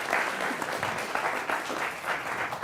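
A studio audience at a televised political debate claps in a dense, sustained burst of applause, steady and fairly close, with no voices over it.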